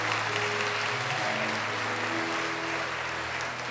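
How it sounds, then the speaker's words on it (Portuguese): A church congregation at a Catholic priest's talk on marriage claps together in sustained, dense applause, steady and fairly loud throughout. "vocês estão aplaudindo aqui"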